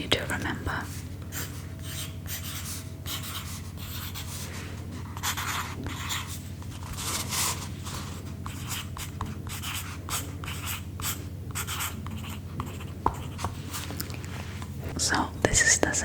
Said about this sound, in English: let me just write something for you to remember